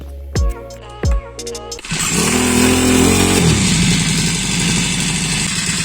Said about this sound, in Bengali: এখন যদি আমি টান দেই সাথে সাথে স্টার্ট হয়ে যাবে দেখুন